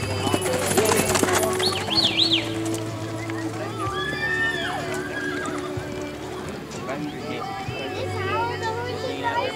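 A harness racing horse at a pacing event whinnies loudly and clearly amid clip-clopping hooves, with a race announcer talking over the scene and faint birds in the background.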